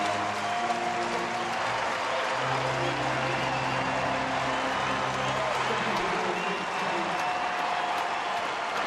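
A baseball stadium crowd at a Seattle at Minnesota game cheers and applauds steadily as fans get to their feet, a continuous roar with a broadcaster's voice and an organ-like tone running over it.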